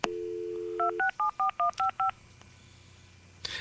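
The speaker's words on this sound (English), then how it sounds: "going on the phone and dialing a bunch of buttons" A steady dial tone hums, then about eight quick touch-tone keypad beeps sound in an even rhythm, followed by quiet line hiss and a click.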